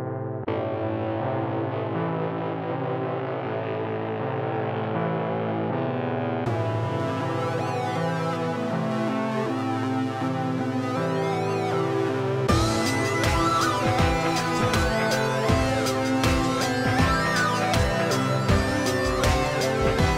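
A full band mix plays back loud and dense, with heavy effects and distortion; the arrangement builds in sections, getting brighter and punchier with driving drums.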